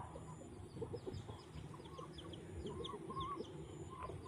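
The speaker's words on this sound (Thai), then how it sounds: "เป็นไก่เหมือนกันเลย" Chickens clucking at a rural farmstead, a loose scatter of short calls near and far, joined by chirping birds over steady outdoor background.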